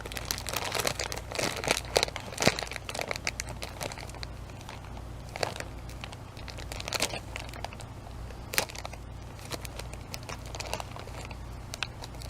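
A plastic bag holding a loaf of bread is handled and opened, giving repeated close crinkling and crackling bursts with irregular rhythm over a low steady hum, with no speech.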